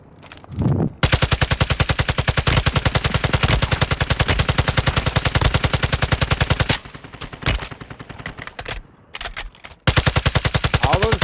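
Sustained rapid automatic gunfire aimed at a helicopter in Call of Duty: Modern Warfare II, loud and close, with long continuous bursts, a few brief gaps, and a final burst after a pause.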